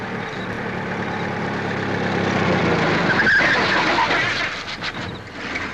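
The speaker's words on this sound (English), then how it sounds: "Here comes the car." A car from a 1943 film draws nearer with a low engine rumble that slowly swells in loudness, then eases off toward the end, with no talking over it.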